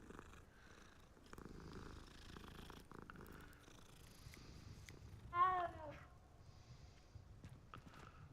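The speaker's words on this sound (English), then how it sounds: "Oh, kitty." A cat purrs softly and steadily in the Hogwarts Legacy video game, faint and continuous, with one brief meow near the middle and no talking.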